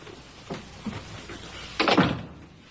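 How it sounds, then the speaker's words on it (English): An office door being closed: a few soft knocks and handling thuds, then one louder wooden thunk as it shuts, close by, with no talk over it. "May I close this door?"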